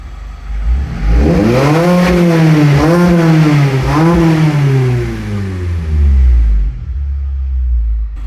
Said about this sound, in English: when it revved above 5, it was like a nice snappy blip